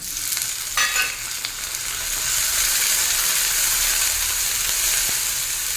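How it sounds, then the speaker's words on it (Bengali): Steady frying sizzle of mourala fish heads in hot oil with onions, continuous and fairly loud, with a few brief stirring clatters near the start; no talking. "এতেই মাছের মাথাগুলো হালকা ভাজা হয়ে যাবে"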